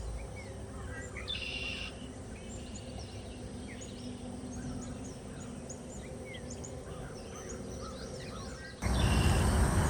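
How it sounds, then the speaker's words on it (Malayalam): Many birds calling and chirping in a forest at dawn, a dense layer of scattered calls over a steady hum of insects, with a louder rustling burst near the end. "പക്ഷികളെ ഒച്ചയെല്ലാം എങ്ങനെയുണ്ട്?"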